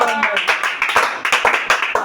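Church congregation at an evening service in Brazzaville clapping and cheering, brisk rhythmic handclaps mixed with voices raised in cries of joy, close and dense throughout.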